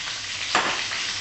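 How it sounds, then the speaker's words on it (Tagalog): Onion and garlic sauté in a pan with a steady, close hiss of oil, and a brief scraping stir breaks in partway through; no voices are heard. "nagisa ko ako ng sibuyas at bawang."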